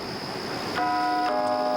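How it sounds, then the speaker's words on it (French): A doorbell chimes twice over a steady background hum, two clear, ringing tones close together near the end, with no talk. "Vous entendez la sonnette, j'ai pas besoin de traduire."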